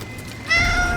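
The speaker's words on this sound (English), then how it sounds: "Cat." A cat in the Dragon Age: The Veilguard game lets out a single clear, drawn-out meow after a brief quiet moment, close and alone.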